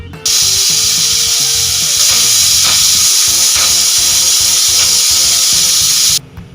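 A pressure cooker cooking mutton biryani lets out a loud, sustained whistle and hiss of steam with a rattling, pulsing undertone, starting abruptly and cutting off near the end, very close and without talk.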